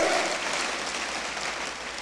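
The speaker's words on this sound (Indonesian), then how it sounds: "Tepuk tangannya boleh yang paling meriah buat Tuhan kita" A church congregation applauds, a dense, steady wash of clapping that holds evenly throughout without pause, loud and close with no clear voices standing out.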